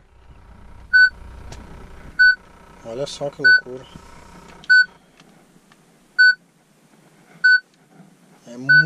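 Sharp electronic beeps from an RD4 car radio repeat at a steady interval, loud and piercing, while someone talks between them.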